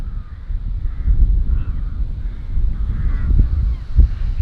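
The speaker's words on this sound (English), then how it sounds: "I'm like, why do I hear so many crows?" Several crows calling outdoors near a castle in the UK, their harsh caws rising now and then over a steady wind-like background rumble.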